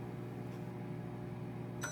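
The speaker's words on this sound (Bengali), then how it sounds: "মাইক্রোওয়েভ ওভেনটা হচ্ছে 900 ওয়াটের, রান্নাটা পুরোটাই হয়েছে হাইয়েস্ট পাওয়ার দিয়ে।" A 900-watt microwave oven runs on highest power, a steady low electrical hum with a constant fan drone, ending with a short sharp beep.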